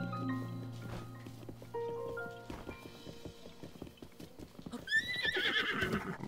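A horse in the video game Zelda Breath of the Wild neighs loudly near the end after steady clip-clopping hooves, with soft musical tones over the first half and no speech.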